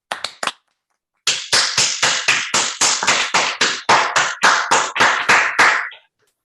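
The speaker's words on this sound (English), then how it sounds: "let's give her a warm round of applause" Close, sharp hand claps of applause for a speaker at a talk: three quick ones, a short pause, then a steady run of about seventeen evenly spaced claps.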